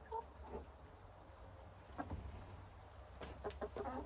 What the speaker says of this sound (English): The chicken that I just picked up, Artemis